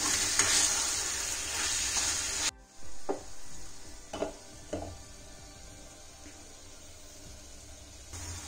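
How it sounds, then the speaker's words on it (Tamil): A pan of wheat semolina mini idli is stirred, a few scraping and tapping strokes of a spoon against metal standing out after a burst of frying hiss that cuts off abruptly. "ஒரு நிமிஷத்துக்கு ஒரு தடவை எடுத்து இந்த மாதிரி கிளறி விட்டுக்கோங்க"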